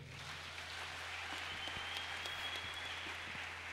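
A church congregation applauds with steady, dense clapping that carries through the whole stretch at a moderate, somewhat distant level.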